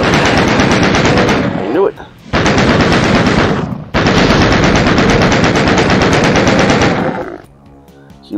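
Rapid machine gun fire in the classic video game Doom, loud dense bursts with a couple of short pauses before the shooting stops. A brief spoken remark occurs near the end.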